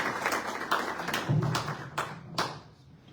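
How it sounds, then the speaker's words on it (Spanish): Scattered hand claps and taps from a small audience at a book presentation, uneven and brief, fading out after a few seconds. "Lo recibimos con fuertes palmas"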